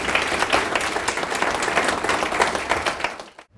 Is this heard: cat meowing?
no